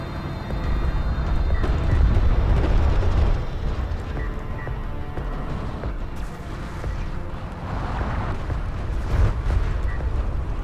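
Artillery fire in the real-time strategy game Homeworld: Deserts of Kharak, a continuous rumble of booming blasts and explosions layered over dense battle noise, loud and sustained throughout.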